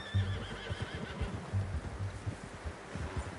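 A horse in a video game whinnies close by, a short run of neighs and snorts mixed with soft hoof clops.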